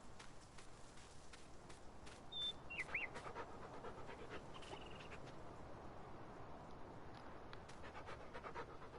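Dog panting in Farming Simulator 19, a steady rhythmic breathy huffing that runs through the whole stretch at moderate loudness, with faint footstep-like taps and a brief small chirp partway through.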